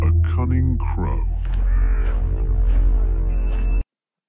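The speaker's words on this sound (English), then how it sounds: "Oh, so the bird is a cunning crow." A crow caws harshly several times, loud and close, with a voice talking over the calls and a low rumble underneath.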